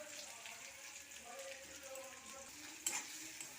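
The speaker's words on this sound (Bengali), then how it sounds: "এবার রসুনটা আর পেঁয়াজটা একটু ভালো করে ভেজে নেব।" Chopped onion and crushed garlic fry in a pan in oil, giving a faint, steady sizzle with light stirring scrapes and one brief clatter near the end.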